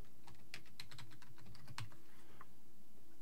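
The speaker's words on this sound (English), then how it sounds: "typing my email address and my password." Someone types a password on a computer keyboard: a quiet, irregular run of light key clicks at close range over a low steady hum, with no talk.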